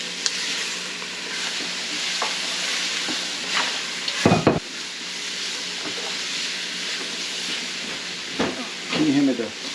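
Gumbo vegetables for chicken and sausage gumbo hiss in a hot pot, a loud steady sizzle broken by scraping stirs and a few clanks of the spoon, with brief voices underneath.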